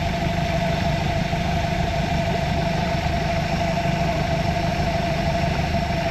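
A 2023 Mercury 150hp four-stroke outboard engine idles with slightly raised throttle, giving a steady, close, continuous drone with a constant whine and no change in pitch or level.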